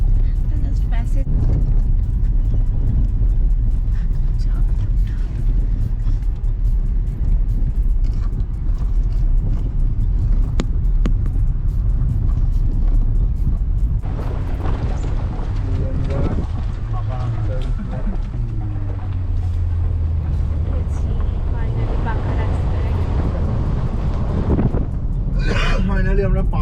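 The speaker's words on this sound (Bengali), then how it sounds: "আমরা এরকম নিচে পুরো অফরোড দিয়ে যাচ্ছি" A car crawls along a rough off-road dirt track below a closed dam road in the countryside near Mukutmanipur, with a loud steady engine rumble and jolting cabin noise throughout, while people talk inside.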